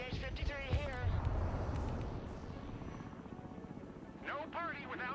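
Game audio of a CH-53 heavy transport helicopter from the combat game Broken Arrow, a steady rotor and engine drone running throughout while radio-style voice lines speak over it at the start and end.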